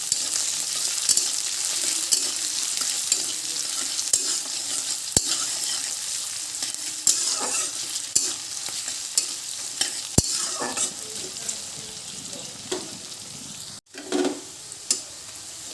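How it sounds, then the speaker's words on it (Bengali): Chopped onion, crushed garlic and green chilies fry in a pan with a steady sizzle, broken by repeated scraping and stirring clinks of a utensil, close and fairly loud with no talk. "তো এর মধ্যে আমি এখন পেঁয়াজ কুচি দিয়ে দেব, রসুন থেতো করে নিয়েছি দিয়ে দেবো, আর কাঁচামরিচ দিয়ে দেবো।"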